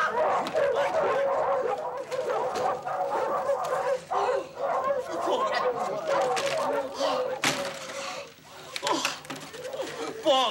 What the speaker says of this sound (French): Pourquoi il t'a amené tous ces chiens à la maison?